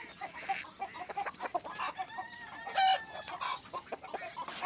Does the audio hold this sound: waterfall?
no